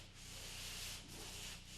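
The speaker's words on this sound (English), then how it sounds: "I call this light sanding, and it only takes a few minutes to do each room." Drywall joint compound gets a light sanding, soft rhythmic scraping strokes that swell and fade in close succession.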